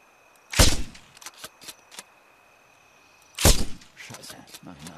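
Two sharp, loud sniper rifle shots crack out about three seconds apart in Sniper Ghost Warrior 2, each followed by a short echoing tail and faint clicks and thuds.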